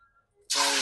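Hot oil in a pan for prawn curry with onions, green chillies and spices suddenly bursts into a loud, sustained sizzle after a near-silent moment.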